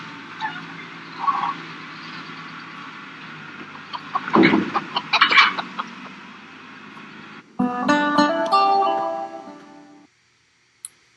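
Chickens cluck in a crowded factory farm barn, scattered soft clucks and squawks over a constant whooshing ventilation drone, followed by a brief burst of busier, sharper calls before the sound cuts out.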